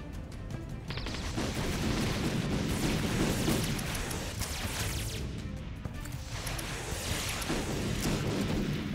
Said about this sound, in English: Slightly better volley cannon.